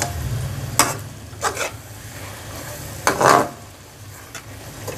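Fenugreek leaves being stirred and fried in a pan with oil, giving a low steady sizzle under several scraping stir strokes, each a short rasping burst, close and moderately loud.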